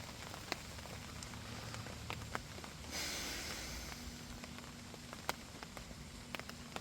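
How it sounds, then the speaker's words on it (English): Rain falling during a washed-out fishing trip, a soft steady patter of drops with scattered sharper ticks on nearby surfaces, fairly quiet and without talk. "I'm not sure how long this rain's going to last"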